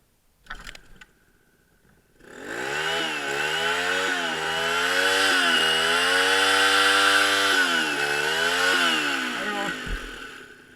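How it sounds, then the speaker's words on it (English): A small engine roars up to a steady high-revving whine after a brief sputter, holding loud and constant with slight pitch dips near the end. "Well, better warm up the engine."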